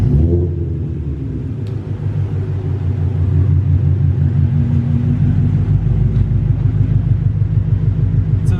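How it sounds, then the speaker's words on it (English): A Ford Mustang GT350 V8 at cold start holds a loud, deep, throbbing rumble up close, its steady idle pulsing evenly without letting up. "the V8 is so much louder at cold start"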